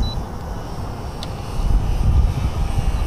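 A radio-controlled model airplane flies overhead with a steady droning motor hum that swells louder toward the end, with no talking.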